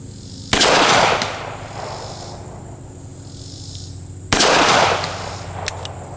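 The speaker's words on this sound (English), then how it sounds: "Can I hit that 100-yard plate with one of these rounds?" Two sharp gunshots from a Smith & Wesson 642 revolver fired at a steel plate 100 yards away, about four seconds apart, each loud and followed by a short decaying echo over quiet outdoor background.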